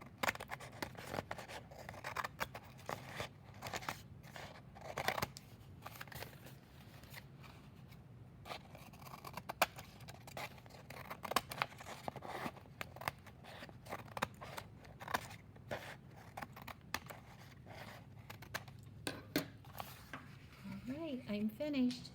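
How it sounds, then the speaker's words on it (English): Scissors trim the ends of woven paper strips in a craft setting, producing faint, scattered snips and papery rustles, with soft speech mixed in throughout. "So I'm going to use scissors and trim these off."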